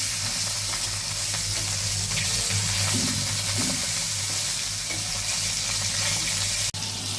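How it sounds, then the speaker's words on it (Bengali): Pieces of rohu fish fry in hot oil with a dense, continuous sizzle and crackle, loud and close, with a low steady hum beneath and no speech. "এই তো মাছ এক পার হয়ে গেছে, এবার উল্টায় দিব আমি।"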